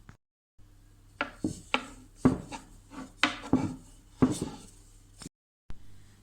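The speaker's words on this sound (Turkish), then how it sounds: "Oklavayla veya merdane yardımı ile açıyorum" Pizza dough is rolled out on a countertop with a wooden rolling pin, giving repeated close rubbing and knocking strokes in an uneven rhythm, with short pauses between them.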